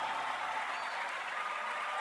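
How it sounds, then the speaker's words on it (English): Crowd cheering and steady applause from the Romancelvania video game, a dense, continuous wash of clapping that fills the whole moment without any voices over it. "And the crowd goes wild."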